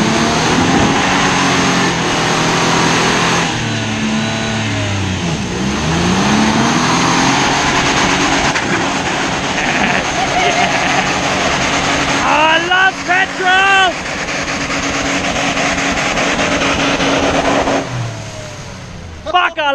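A petrol car engine revs hard and repeatedly, climbing and falling in pitch with sharp rising sweeps near the end, loud and close, while people talk and cheer over it.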